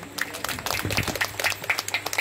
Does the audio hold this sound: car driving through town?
no